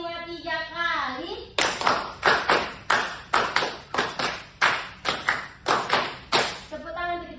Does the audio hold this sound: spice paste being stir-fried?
no